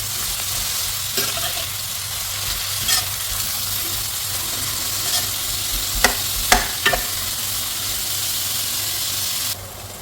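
Onions frying in oil for a Telangana-style chicken fry, a steady hissing sizzle with occasional stirring clicks and a couple of sharper spoon knocks, close, fading near the end, no talk.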